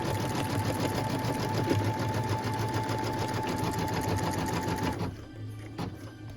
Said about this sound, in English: Then we can go ahead and stitch the tack down line